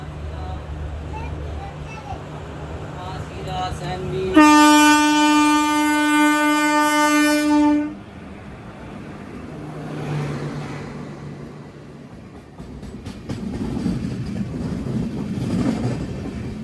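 A Konkan Kanya Express train hauled by a WP4 locomotive sounds a loud, sustained horn for a few seconds, followed by rolling rumble and rail clatter, with voices in the background.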